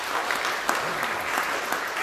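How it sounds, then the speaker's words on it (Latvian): A Baptist church congregation in Riga applauds, a steady, dense burst of many hands clapping together with a faint voice underneath. "Aplaus lūdzu."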